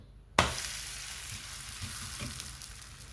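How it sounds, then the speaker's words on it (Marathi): A sudden sharp hiss as a pumpkin thalipeeth flatbread hits a hot griddle, then a steady close sizzle that slowly settles, with no voices. "आपण धपाटं टाकून घेऊया तव्यावर."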